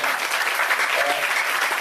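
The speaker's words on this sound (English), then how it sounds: "So we should give a big round of applause" An audience at a maritime law academy event in a hall breaks into dense, sustained applause, many hands clapping together evenly and fairly close throughout the brief stretch.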